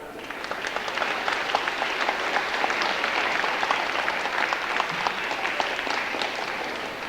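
Audience applause at a senior celebration ceremony, a sustained crowd of clapping hands at moderate distance, even and continuous throughout with no pause.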